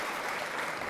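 Audience applause in a conference hall during a political forum in Galicia, a steady dense wash of clapping from a crowd, sustained and even throughout the short stretch.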